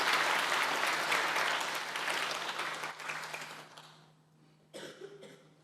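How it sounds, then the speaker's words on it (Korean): Audience applause welcoming the National Assembly speaker at a children's assembly session, a full round of clapping that gradually fades away, followed by a cough or throat clearing near the end. "큰 박수로 환영해 주시기 바랍니다"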